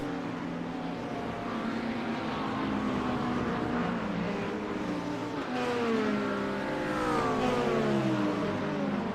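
GT3 and LMP2 race cars in a sim racing game drone steadily through engine notes, with pitch sweeping up and down as the cars accelerate and shift late in the run; no voices.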